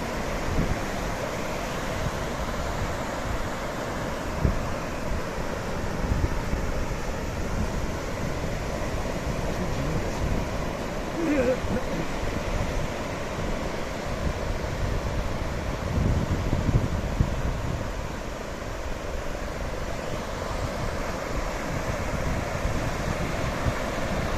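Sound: wind at the seashore

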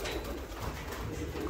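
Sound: pigeons cooing

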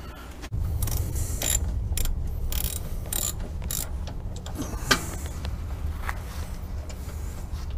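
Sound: ratchet breaking brake caliper loose on 2007 Acura

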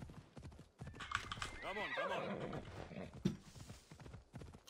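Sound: horse hooves in a video game

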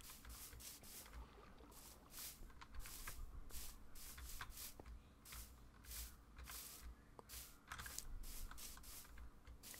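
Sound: computer keyboard keys and mouse clicking

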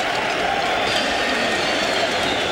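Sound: boxing crowd cheering for Vitali Klitschko

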